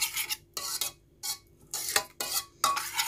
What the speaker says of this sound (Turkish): karıştırayım.